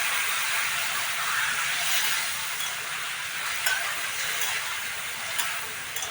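Khira and potato frying in spiced oil, a steady close sizzle and hiss with faint occasional ticks, continuous and alone without talk.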